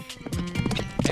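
Hooves of a galloping horse during mounted archery beat out a quick, close clip-clop rhythm in a brief burst, with a voice faintly present.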